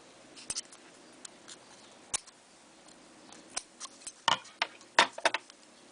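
Scissors cut paper in scattered close snips, a few isolated clicks at first, then quicker clustered cuts toward the end, all quiet and without talk.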